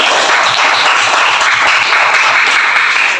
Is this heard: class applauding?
yes